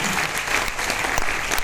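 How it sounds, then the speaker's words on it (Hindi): A crowd claps steadily in loud, continuous applause, with no voices rising above it. "सर के परिवार के लिए जोरदार तालियां।"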